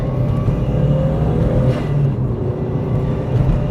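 A Subaru Bugeye WRX fitted with an STI six-speed gearbox accelerating, with a loud, steady engine drone and a rising whir that holds strong from start to finish.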